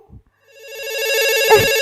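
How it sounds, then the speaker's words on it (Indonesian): A telephone rings with a steady electronic ringtone, rising in loudness and holding a sustained tone, preceded by a brief soft knock and with a short thump near the end. "Ada telepon, dari siapa nih?"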